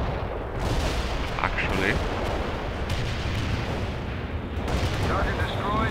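Mortar fire in the World in Conflict strategy game: continuous rumbling artillery booms and blasts fill the scene at steady loudness, with a brief spoken word over the din.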